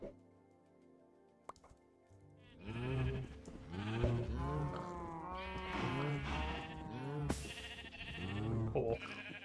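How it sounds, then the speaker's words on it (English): Minecraft sheep bleat repeatedly in quick succession, a run of wavering, nasal baas that start after a quiet opening and carry on close and clear to the end, with a small click early on. "Get back here, sheep."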